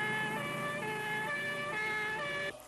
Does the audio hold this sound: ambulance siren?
yes